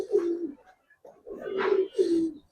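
A silver, old-breed Giribaz pigeon coos up close in three low, rolling calls separated by short gaps, with no other sound between them.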